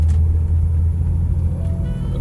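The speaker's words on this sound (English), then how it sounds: "I'm driving the beautiful BMW" BMW E28 533i from the 1980s on the move, with a steady low engine and road rumble holding close and even throughout, no voices over it.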